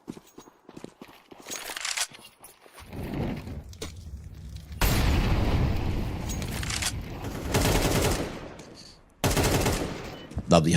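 AWP sniper rifle shots in the competitive shooter Counter-Strike during a league match: several sharp, loud single cracks spaced seconds apart, mixed with game noise and a commentator talking throughout.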